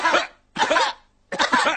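Three harsh cartoon-character coughs in a row, loud and close, each a rough burst with short gaps between.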